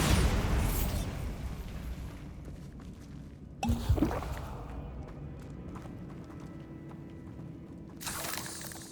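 Bombarda spell explosion in Hogwarts Legacy, a loud blast opening the clip, then a low rumble that fades, with a second sharp burst near the middle and another swell at the end.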